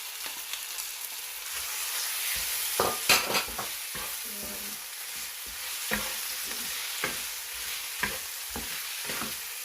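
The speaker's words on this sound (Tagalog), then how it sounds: "Stir fry lang po natin siya" Chicken stir-fried with garlic and broccoli in a pan, a steady hiss of sizzling with scattered clacks and scrapes of a utensil moving the pieces around, close by and with no talking.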